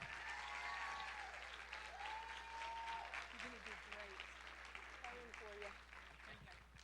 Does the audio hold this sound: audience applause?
yes